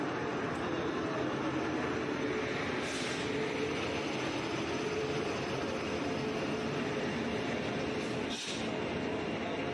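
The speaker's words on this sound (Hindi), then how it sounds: "ट्रेन लगाई जा रही है मालदा टाउन भटिंडा फरक्का एक्सप्रेस 1 पे" A WAP-7 electric locomotive from Howrah draws the Malda Town–Bathinda Farakka Express onto platform 1, giving a steady, loud rumble of rolling coaches that fills the station with no pauses.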